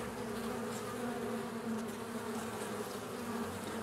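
Steady, dense buzzing of many honey bees at a hive, a continuous low drone with no pauses, close and moderately loud.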